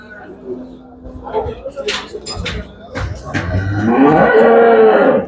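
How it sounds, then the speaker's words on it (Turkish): Holstein cattle low and moo at a busy livestock market in Bergama, a drawn-out moo swelling near the end over shuffling, scattered thumps and nearby human voices. "bir tane bozak biraz yaşlı inek Holstein dive var"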